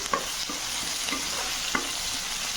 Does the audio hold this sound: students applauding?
no